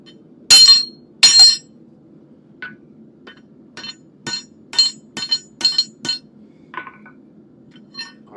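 A hammer strikes hot metal while forging a bent hook, about a dozen sharp, ringing blows in an uneven rhythm, the first two loudest, with pauses between.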